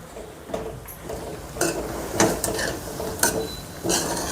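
Grated farm carrots simmering in milk in a pan for carrot halwa, with a spoon scraping and stirring against the metal in several distinct strokes over a soft bubbling background.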